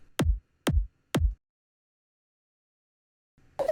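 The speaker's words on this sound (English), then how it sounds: "The reason that it sounds so funny is because I stretched the kick sample" A stretched, distorted kick sample from a drop made in Logic Pro X booms three times in quick succession, each hit deep and sliding down in pitch. Silence follows, then a short bright burst at the end.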